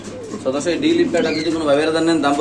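A Dulip pigeon coos repeatedly at close range, its low throaty calls rising and falling over about two seconds while someone speaks over it.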